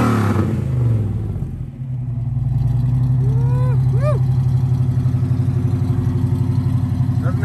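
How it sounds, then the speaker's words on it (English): A 1969 Pontiac Trans Am's big V8 engine rumbles steadily at idle, deep and loud, with a brief dip early on before settling into a constant throaty burble. "Let's listen to the car."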